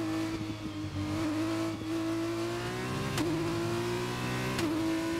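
An F1 car in the F1 2021 racing game, its loud, high engine whine holding steady and dipping in pitch at each upshift, two clear gear changes heard up close with no talk.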